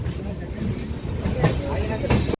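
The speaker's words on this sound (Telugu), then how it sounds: "సో మన ట్రైన్ బయలుదేరింది భయ" Inside an unreserved coach of the Golconda Express, Vijayawada to Secunderabad, as it pulls away near Bhuvanagiri: a low, continuous rumble with a few louder wheel clacks, close and steady.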